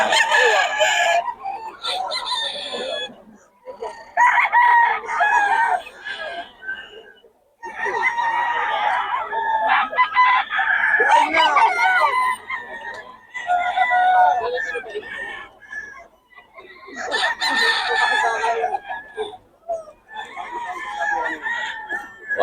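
Fighting roosters brought from Pampanga crow and cluck loudly and close in repeated bursts with short pauses, amid a busy chorus of birds, with people talking intermittently.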